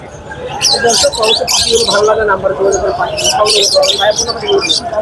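Dense, loud chorus of budgerigars chirping and chattering close by at the Mirpur 1 bird market in Dhaka, with continuous overlapping tweets and warbles throughout.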